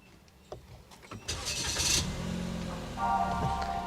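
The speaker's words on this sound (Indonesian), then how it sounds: "Oke, kita nyalakan dulu mesinnya." A Daihatsu Rocky 1.2 SUV starts up: faint clicks, then a loud starter crank and catch, settling into a steady idle with a slight rise in revs near the end.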